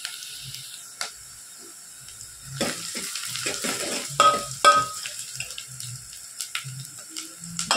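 Chopped onions frying and being stirred in a pan while leafy amaranth greens are cooked, with steady sizzle and intermittent scraping stir strokes, close and moderately loud, no talking.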